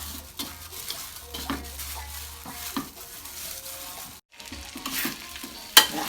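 Khanom jeen rice noodles sizzle in oil in a wok over low heat while a utensil scrapes and stirs rhythmically, with occasional metallic clinks close by.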